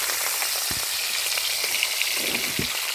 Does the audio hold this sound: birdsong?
no